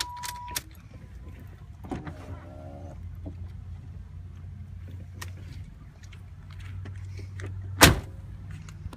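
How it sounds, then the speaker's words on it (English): The power windows of a 1987 Cadillac Brougham crack open from inside the car with brief, faint electric motor whirs, followed by a sharp click near the end. "I'll crack the windows just so I have some ventilation."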